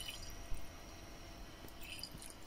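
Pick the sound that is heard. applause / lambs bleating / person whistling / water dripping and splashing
water dripping and splashing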